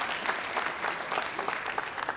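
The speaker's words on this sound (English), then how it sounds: "Some kind of half-hearted, weak, feeble clapping." Weak, scattered clapping from a comedy show audience, a thin patter of hands that carries on steadily for a couple of seconds without building into a full ovation.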